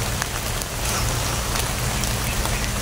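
Steady rain pours down while travelling outdoors, a dense, even hiss of drops hitting surfaces that stays loud and close throughout, with no talking.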